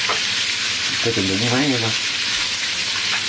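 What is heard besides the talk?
crab frying in a pan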